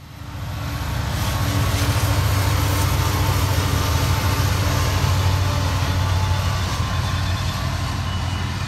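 CSX freight train QO28 passes close by at CP Lock Air in Georgia or Florida, a loud continuous rumble and rolling rail noise with steady tonal hum, sustained throughout.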